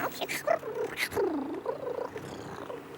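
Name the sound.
cartoon kitten meowing and purring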